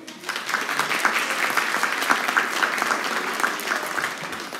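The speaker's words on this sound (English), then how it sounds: "Ms. Toft, a round of applause" A school music department concert audience gives Ms. Toft a round of applause, loud, sustained clapping from many hands, steady and close for the whole stretch.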